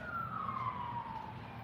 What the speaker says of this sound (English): There's another cop or ambulance.